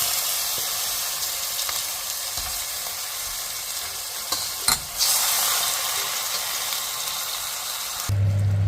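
Washed mutton pieces hit a hot pan of salted spice mix for a Hyderabadi mutton curry, giving a loud, steady sizzle and hiss with occasional stirring scrapes and clinks throughout, no voices.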